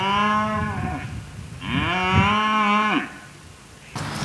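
A bull bellows in long, loud, drawn-out moos, two big calls close to the microphone with a short pause between, recorded outdoors in a residential yard.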